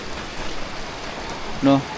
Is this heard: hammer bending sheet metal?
no